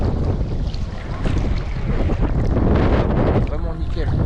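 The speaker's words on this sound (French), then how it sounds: "Même au niveau du son, à mon avis, vous devez entendre le vent." Strong, gusting wind buffeting the microphone beside an outdoor hot pool in Iceland, a loud continuous roar that swells and eases, with faint voices partly buried underneath.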